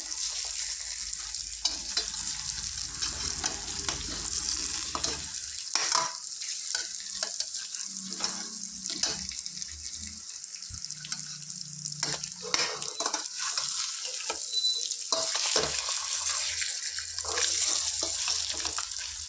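Eggs frying in a pan for tomato egg curry, a continuous bright sizzle with repeated scraping and clinking of a spatula as they are turned, close and steady throughout.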